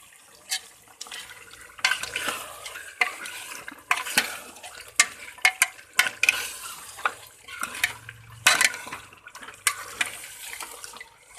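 Mutton fries with garlic and ginger in oil for a dhaba-style saag mutton, crackling and sizzling under repeated loud scraping stirs of a spatula against the pan, close and busy, no voices.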